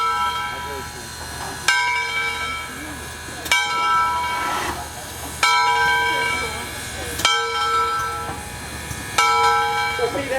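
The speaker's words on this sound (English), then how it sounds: "there's that piston there on the bell. The cord just goes up and down without anybody having to pull it." Bell of steam locomotive #630, rung automatically by a piston, with steady clanging strikes about every two seconds that leave long ringing tones.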